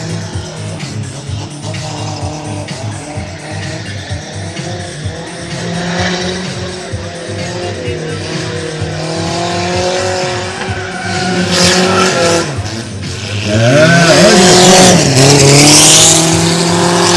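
A Chevette drifts with its right rear tire gone, running on the bare rim, its engine revving hard and tires squealing loudly, rising to a harsh scraping screech near the end, with a commentator talking over it.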